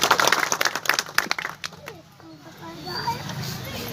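A crowd at a political gathering breaks into brisk applause that lasts a second or two and then fades, leaving murmuring voices and background chatter.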